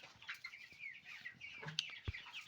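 Cobb 500 broiler chicks cluck and peep softly while eating, a faint, continuous chatter of small birds with occasional pecking taps.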